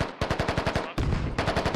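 Rapid automatic gunfire in the military shooter Squad, two close bursts of evenly spaced loud shots with a brief break between them.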